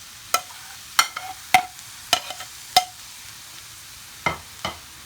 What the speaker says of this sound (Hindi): अब मैं ये सारी वेजिटेबल्स इसमें डाल दूंगी। और इन सबको अच्छी तरह से मिक्स कर लेंगे।